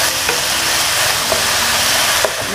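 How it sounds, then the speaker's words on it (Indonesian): Marinated chicken pieces stir-fried in a wok sizzle loudly and continuously, with a few faint scrapes of the utensil as it is tossed, close up and without talk. "setelah dimarinasi ini langsung saya tumis-tumis di wajan ini sampai berubah warna ya ayamnya ini"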